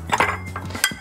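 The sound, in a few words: large block of ice added to Monte Carlo cocktail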